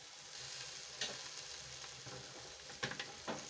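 Ivy gourd and a few curry leaves frying in a pan as they are stirred, giving a soft steady sizzle with occasional scrape and clink accents of the spoon against the pan, quiet and close.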